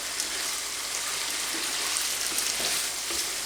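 A pan of smoked haddock risotto rice being stirred gives off a soft, steady sizzling bubble with faint scraping, close and continuous without a break.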